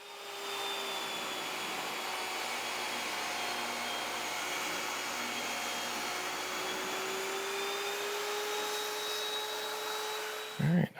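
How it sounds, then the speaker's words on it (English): A Machorool 10-inch jobsite table saw cutting maple, its motor whining steadily and loudly for about ten seconds with a slight pitch drop under load, then a brief clatter as the cut ends. "you can hear the motor work a little bit harder on this maple"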